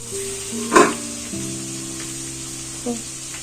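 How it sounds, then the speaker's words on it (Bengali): Beans fry in a pan for fried rice, a steady loud sizzle throughout with a brief clatter of stirring near the start and a smaller knock later, no talk. "এদিকে বিনটা ভাজা হচ্ছে"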